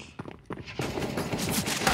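Gunshots in the Counter-Strike shooter: a few sharp separate shots, then a loud sustained burst of rapid fire with echoing crack and rumble.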